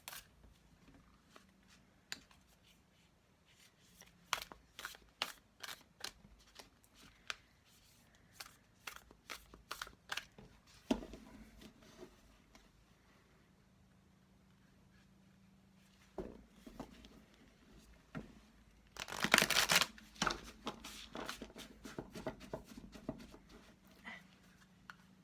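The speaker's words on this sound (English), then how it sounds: "trying to make sure they're well shuffled, as always." A brand-new Three Goddess oracle card deck being shuffled by hand, with irregular bursts of crisp riffling and card slaps separated by quiet pauses, close and moderately loud, a denser flurry near the end.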